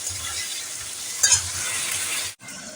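Potatoes sizzle in oil in a pan while being stirred, giving a continuous close frying hiss with a brief louder scrape midway and a momentary cutout near the end.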